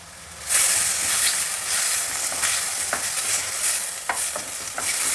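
A teaspoon of cumin seeds frying in a pan, giving a steady sizzle and hiss that begins abruptly after a brief pause and holds through, with crackly pops scattered across it and no voices.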